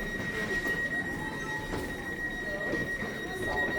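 A train passes through Waterloo station in Merseyside in the evening, a steady rumble with a sustained high wheel squeal running beneath a noisy platform ambience, with faint voices in the background.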